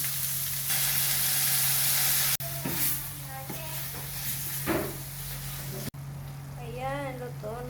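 Dried fish (tuyo) fries in a pan with a loud, steady sizzle and hiss, briefly broken by clatter, while a voice talks over it near the end.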